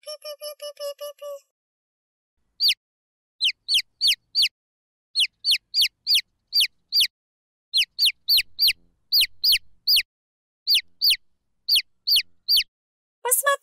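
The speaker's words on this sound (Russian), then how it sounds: "Цыпленок пищит." A young chicken cheeping in repeated bright, high peeps arriving in quick clusters separated by short pauses, loud and close, after an opening burst of a different tonal call.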